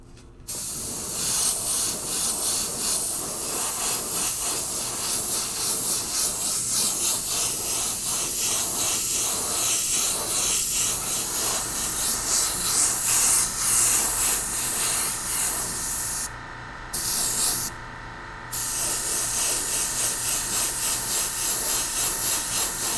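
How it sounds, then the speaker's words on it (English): Red sealer sprays over gray primer on a 3D-printed project, a close, continuous hiss running about twenty seconds, broken by two brief pauses near the end. "Using the Autoborn red sealer to cover up the gray primer."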